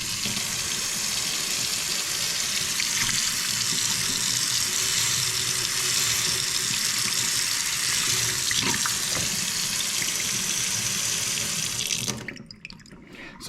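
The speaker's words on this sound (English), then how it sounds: "So as you can see, the water's running." Steady, full-bodied rush of tap water running from a Kohler semi-professional kitchen faucet into a sink, continuous and close, then cutting off abruptly near the end.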